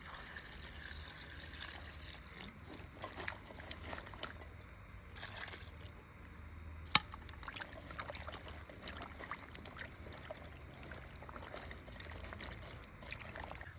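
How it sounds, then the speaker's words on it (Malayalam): Young jackfruit pieces being washed with water in a vessel, a faint continuous trickle and splash with scattered soft clatters of the pieces being rubbed. "അപ്പോൾ നമ്മളിതിലോട്ട് കുറച്ച് വെള്ളം ഒഴിച്ചിട്ട് മൊത്തം കഴുകിയെടുക്കുന്നുണ്ട്"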